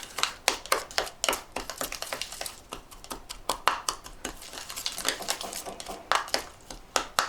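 A favourite stick stirs jewellery-making paste in a container, giving quick, close, irregular taps and clicks at a moderate level.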